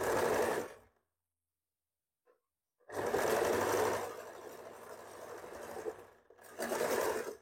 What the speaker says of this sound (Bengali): তার জন্য প্রথমে একটা নর্মাল সেলাই আমি করে নিই